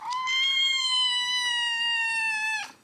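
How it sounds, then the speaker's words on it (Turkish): A kitten lets out one long, loud, drawn-out meow lasting nearly three seconds, steady and close, then breaks off abruptly, with no talking over it. "Bağırıkçı kedi."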